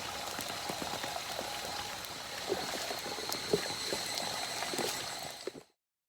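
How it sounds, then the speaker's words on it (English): Rain falls steadily with occasional sharper drops hitting nearby, a constant hiss until the sound cuts off abruptly near the end. "considering it's raining, it could get dark in like 15 minutes"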